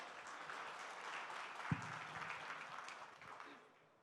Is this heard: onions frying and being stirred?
no